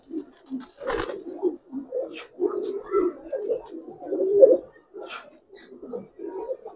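Soft, throaty cooing from Giribaz and coloured pigeons close by, repeated low calls overlapping in a steady murmur, with a brief clatter near the start.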